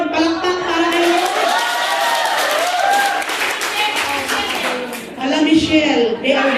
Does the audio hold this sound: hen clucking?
no